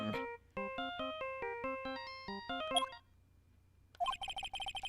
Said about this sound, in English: That was Emma's phone that rang!